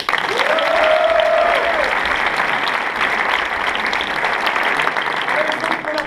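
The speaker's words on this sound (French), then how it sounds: "Je vous demande d'applaudir Thomas et Nico." A large audience at a school event applauds steadily and loudly for two presenters, a dense wash of many hands clapping throughout, with a brief whistle or cheer near the start.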